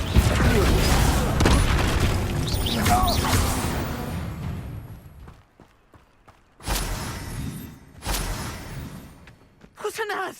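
A fire spell blast in Hogwarts Legacy on PS5 erupts as a loud, dense burst of roaring, crackling energy, then fades into quieter thumps before two more short sharp bursts break out near the end.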